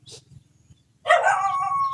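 A dog gives a sharp bark followed by a drawn-out whining yelp, close by, with a low hum in the background.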